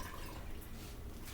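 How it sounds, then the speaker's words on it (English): Cabbage rinsed under a running kitchen tap, a steady broadband rush of water spattering over the leaves, fairly loud and continuous with no talk. "So I'm going to rinse off my cabbage here."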